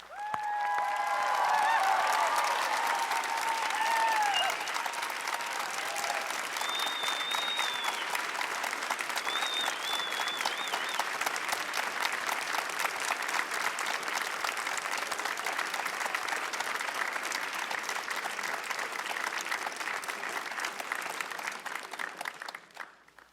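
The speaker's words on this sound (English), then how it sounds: "Will our honorees and faculty please join me in a round of applause" Long, even applause from a university honors convocation audience, with a crowd clapping steadily for over twenty seconds, a few faint cheers early on, and the clapping fading out at the end.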